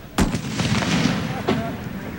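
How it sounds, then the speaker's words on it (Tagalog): A giant illegal 5-star firecracker goes off with a sharp, booming blast, followed by rumbling echo and a second smaller crack a moment later. "Sinubukan din kanina ang bagong paputok na ito na malahiganting 5-star."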